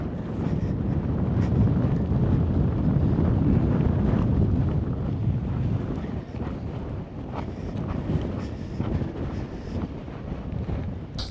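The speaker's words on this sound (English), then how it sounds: "There's so much wind here." Strong wind on the high mountain pass of Bong La (4650 m) in Ladakh buffets the microphone in heavy, rumbling gusts, loudest early on and easing slightly toward the end.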